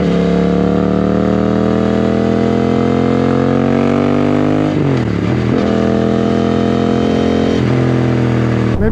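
A Suzuki GSX-8S motorcycle on the move gives a loud, continuous engine drone with a steady rising pitch, broken by two brief dips that sound like gear changes, and no voices.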